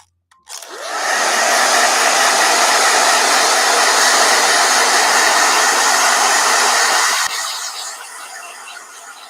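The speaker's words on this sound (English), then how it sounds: "one more blow dryer" A blow dryer switches on and runs with a loud, steady whirring roar for several seconds, then cuts off and winds down.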